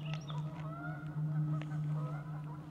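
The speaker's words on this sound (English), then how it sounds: "I'm hunting wabbit. But it's actually geese." Geese honk outdoors in a near, repeated run of calls over a steady low hum, with no talking.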